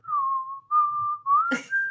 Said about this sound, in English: I'm gonna be whistling on purpose, and it's gonna be a jaunty tune.